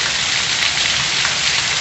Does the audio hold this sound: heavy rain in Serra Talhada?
yes